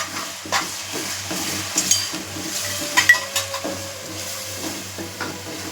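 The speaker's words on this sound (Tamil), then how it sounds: "இப்போ அந்த மசாலாலாம் கொஞ்சம் அது அப்படியே வெந்து வரட்டும்" Masala for pepper chicken fries and sizzles in a pan while a spoon stirs and scrapes it in uneven strokes, with a steady low hum beneath, close and with no talk.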